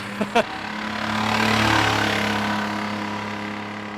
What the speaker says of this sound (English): we recorded this Fiero and it had the most kind of funny sound